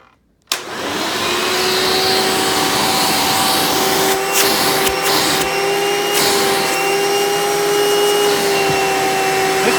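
A Hoover Runabout Elite U4253-930 upright vacuum with its hose attached switches on with a sharp start and then runs with a steady, loud motor whine and airflow roar, a few light knocks along the way.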